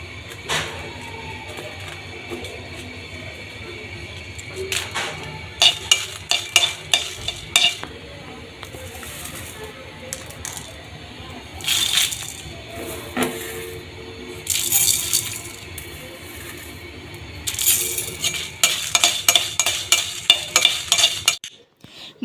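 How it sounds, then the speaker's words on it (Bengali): Chilies fry in a wok for mango pickle, with dry scraping stir strokes coming in clustered bursts over a quiet sizzle, loudest toward the end. "প্রথমে মরিচগুলো ভেজে নেব।"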